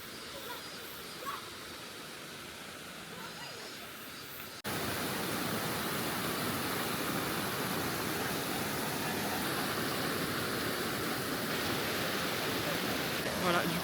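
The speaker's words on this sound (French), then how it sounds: "on est dans une cascade, en fait on peut se baigner et tout ça" A waterfall cascading into a bathing pool in Portugal, heard as a dense, continuous roaring rush of falling water that grows louder partway through and fills the whole scene.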